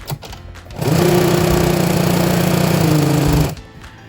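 A sewing machine runs steadily for about two and a half seconds while stitching a flat cotton rat hammock, with a loud, even motor hum that starts and stops abruptly and has no talking over it.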